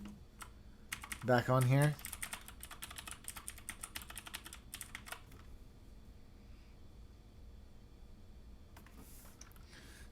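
Typing on a mechanical keyboard fitted with Gateron Blue switches, a fast burst of clicky keystrokes near the start that thins into scattered taps, with a short spoken remark and some talk early on.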